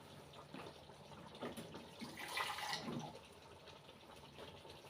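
Water pours steadily into a cooking pot of tomato paste, a soft continuous splashing stream that swells briefly in the middle before settling.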